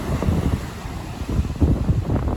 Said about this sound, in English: The water's quite rough.